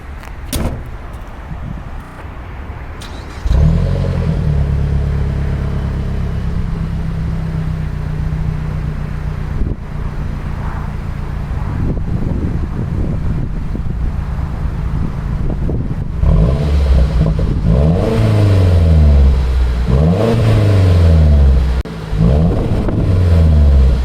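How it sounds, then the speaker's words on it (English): A Mazda 3 MPS (Mazdaspeed3) engine idles steadily, then revs to about 3,000 RPM several times in rising and falling exhaust sweeps, loud and close, with no talking. "I'm just gonna let you hear the exhaust for a second."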